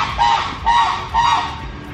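Geese honking at San Diego Zoo Safari Park, three loud nasal calls in a steady rhythm, each about half a second apart, with no talk over them.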